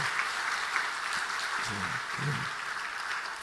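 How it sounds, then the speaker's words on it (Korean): Church congregation clapping together during an evening worship service, a steady dense wash of applause that holds level and close throughout, with faint voices murmuring underneath. "우리 한번 다시 한번 박수로 한번 격려하십시다."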